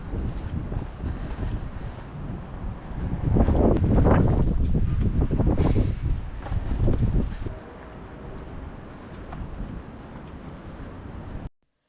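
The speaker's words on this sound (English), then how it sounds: "It's fairly windy" Wind in an open field at the hawk watch area of Brandywine Creek State Park buffets the microphone with a low, rumbling roar. It swells strongly for a few seconds in the middle, then eases to a steady, softer rush.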